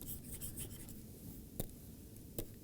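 Chalk or marker writing on a board during a maths lecture, soft scratchy strokes in short bursts with two sharper taps, faint and close, no talking.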